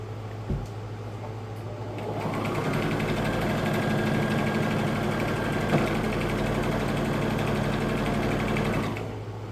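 A domestic sewing machine stitches patchwork fabric in one steady, continuous run of motor whir and rapid needle clatter lasting several seconds. It is close and fairly loud, starting and stopping cleanly, with no talking.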